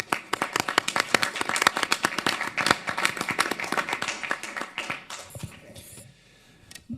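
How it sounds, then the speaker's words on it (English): A room full of people applauding at a city council meeting, dense rapid clapping that gradually thins out and fades to a few scattered claps. "give Shar and the library staff a round of applause for all they've done."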